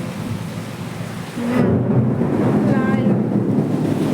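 Heavy rain pours outside, then a deep rumble of thunder rolls in and swells, joined by gusting wind, loud and sustained to the end.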